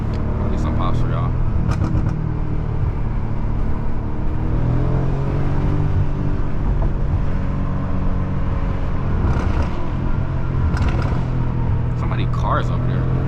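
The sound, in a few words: BMW F90 M5 exhaust pops and burbles on highway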